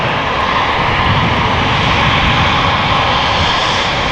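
A KLM Embraer 190 jet at Amsterdam Schiphol Airport, a loud, close, continuous engine roar that holds steady throughout with no talk.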